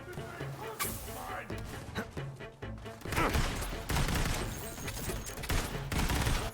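Rapid automatic gunfire from a gun in Borderlands 3 bursts in bouts over game sound, with a player talking over parts of it.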